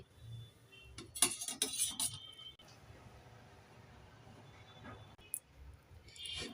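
Cutlery scrapes and clinks against a plate and pan as mustard greens and eggplant fry are served out, in bursts of close metallic clatter with quieter pauses between.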